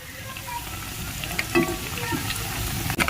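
Bengali sweet snacks, made without chhena, sizzle steadily in oil over a low flame, a continuous close crackle with a few brief stirring clinks and no talking.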